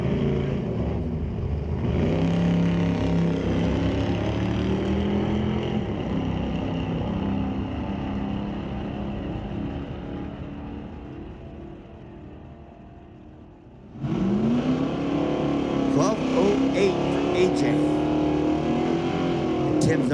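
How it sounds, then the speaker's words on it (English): 1957 Chevy Bel Air and 1979 Ford Mustang drag racing at Mission Raceway Park, loud engines revving and accelerating away, fading toward a lull, then a sharp new burst of roaring engines and rising revs near the end. "A 57 Chevy Bel Air and a 1979 Ford Mustang."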